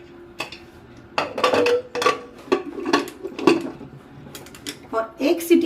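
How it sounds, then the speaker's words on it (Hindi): A pressure cooker lid is fitted onto the cooker while making veg biryani in a home kitchen, giving several metallic clanks and scrapes of pot and lid at close range, with a voice talking in between. "और कुकर का ढक्कन लगा देंगे।"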